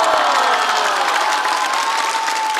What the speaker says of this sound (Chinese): 再次掌声送给唐国强老师。